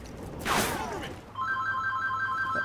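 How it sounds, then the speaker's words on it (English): A mobile phone rings with a repeating electronic tone, loud and close, over the quieter sound of a Call of Duty: Ghosts campaign mission playing. "No, my phone's ringing, guys."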